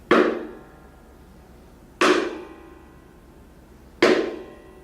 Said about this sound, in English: strike the back of the piano, which causes all the tines to resonate.